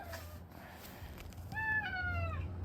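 A cat near a car in a garage meows twice, a short cry and then a longer drawn-out one, close and clear over a low background hum, with no talk.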